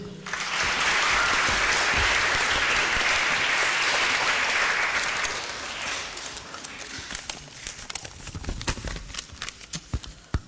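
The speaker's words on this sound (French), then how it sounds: "Wart de Munter, qui est là et on l'applaudit." Outdoor crowd at an Armistice Day ceremony in Dworp applauds a schoolchild from Sint-Victor School. The dense, loud clapping lasts about five seconds before breaking into a few scattered claps and rustling.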